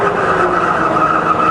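A rebuilt Bridgeport milling machine runs in low range at 130 RPM, giving a steady, fairly loud mechanical whine and hum with no talk over it.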